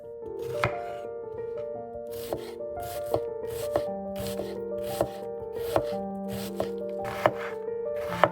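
A knife finely chops a large onion on a board in a steady rhythm of crisp, close taps, about one or two per second, under soft background music, with no talking.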